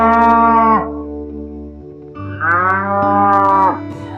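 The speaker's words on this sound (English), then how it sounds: "Cow." A cow gives two loud, drawn-out moos close by, separated by a brief lull with a low rumble.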